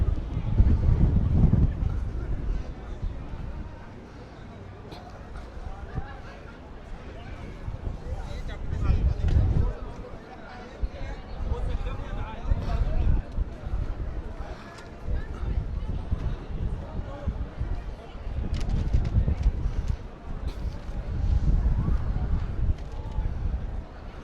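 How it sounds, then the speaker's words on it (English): Strong wind in Birmingham city centre on New Year's Eve buffets the microphone in heavy low rumbling gusts that rise and fall throughout, with a voice speaking intermittently underneath. "Very windy, guys"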